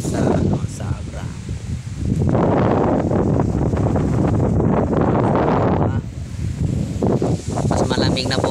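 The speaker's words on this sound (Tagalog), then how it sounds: "Medyo malakas na po yung hangin dito sa Abra." Strong amihan monsoon wind in Abra, Philippines, buffets the microphone in loud, roaring gusts, with a voice speaking intermittently over the blustery noise.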